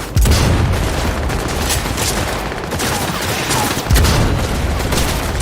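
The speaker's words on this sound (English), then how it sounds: "Let's see if I can get a little well-placed grenade right there." A grenade blast and gunfire ring out in the Cyberpunk 2077 video game. Loud bursts of shots run throughout, with two heavy booms near the start and again later. No voices.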